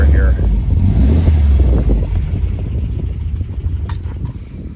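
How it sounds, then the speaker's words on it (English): A 1973 MGB roadster engine rumbles and revs close by, its booming exhaust note loud and steady before easing off slightly toward the end. "So yeah, super healthy engine, booming exhaust note"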